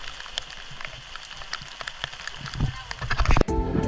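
Steady rain falls during the windy west-monsoon season at Tanjung Bira, a dense, crackling patter of drops that swells louder toward the end, with a sharp burst near the close.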